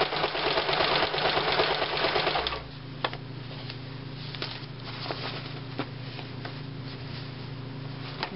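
A sewing machine stitches an upholstery cover close along its piping, running in a dense steady whir for about two and a half seconds, then dropping to a quieter hum broken by a few light ticks and clicks.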